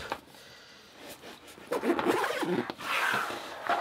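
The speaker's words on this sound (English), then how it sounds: "So that's the bag really. I'll just zip that back up." A backpack zipper is pulled closed in quick rasping strokes, close and fairly quiet, with light rustling of the bag around it.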